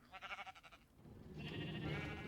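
Minecraft sheep on a video-game sheep farm give a pulsing, wavering bleat followed by another longer bleat over a low hum, soft to moderate and without speech.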